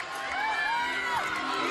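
A home crowd at an NCAA gymnastics championship cheers and whoops loudly, a dense sustained roar with high shouts rising over it throughout the brief moment.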